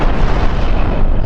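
Cannon fire during a player-versus-player ship battle in the space game Cosmoteer, heard as a loud, dense barrage of booming blasts blending into one continuous roar.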